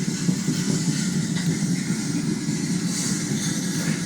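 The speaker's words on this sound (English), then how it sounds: "That was a good train." A long train rolling slowly through a town on street-running track in La Grange, Kentucky, giving a steady, moderately loud low rumble and rail noise with a faint hiss throughout, no voices.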